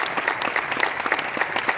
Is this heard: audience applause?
yes